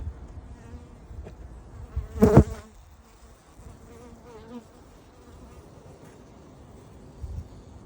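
Honey bees buzz steadily around nucleus hive boxes, a close, continuous droning with one louder swell as a bee passes near.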